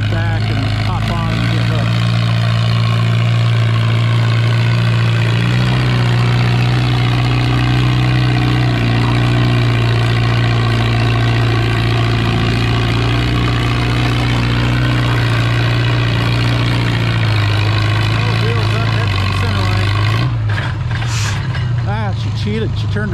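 Farmall 300 and Super MTA tractor engines running loud and steady at a tractor pull, a deep continuous drone with shifting harmonics throughout and a rougher change near the end, while a voice speaks over it.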